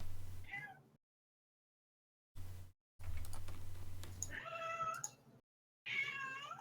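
A pet cat meows several times with rising and falling cries, close to the microphone, separated by silent gaps and low background rumble.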